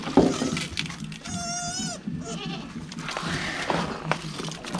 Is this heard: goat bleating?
yes